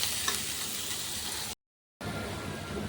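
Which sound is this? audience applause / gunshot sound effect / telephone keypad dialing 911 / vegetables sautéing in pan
vegetables sautéing in pan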